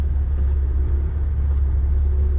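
A car rumbles with a deep, constant low-frequency roar as it lurches over potholes on a rough, broken road, the engine drone heavy and unbroken throughout.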